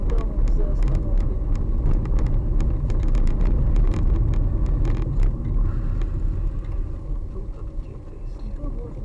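Road traffic rolls past on the Vitebsk highway in Smolensk, a steady broad rumble of car engines and tyres close by, with voices talking over it.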